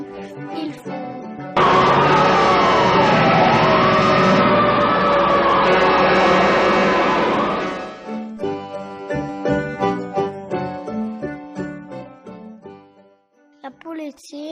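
A fire engine siren wails loudly in a rising and falling tone for about six seconds, set within a children's tune about vehicles with music before and after it.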